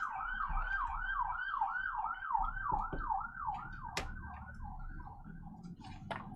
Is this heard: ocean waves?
no